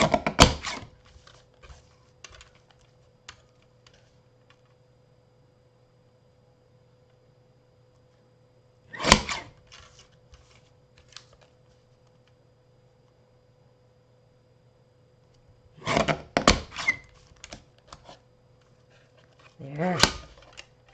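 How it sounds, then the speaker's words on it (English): Paper is cut on a paper trimmer in a craft setting, heard as several short, sharp slicing swipes separated by quiet gaps, with a low steady hum in the background. "See if I can do it with this paper trimmer."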